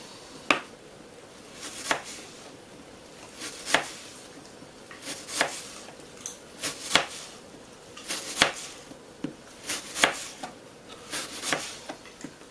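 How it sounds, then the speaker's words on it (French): A knife cuts an apple into thin strips on a board for a cocktail garnish, making about a dozen crisp, evenly spaced chopping taps, close and clear in a quiet room. "Vous allez ensuite couper de fines lamelles."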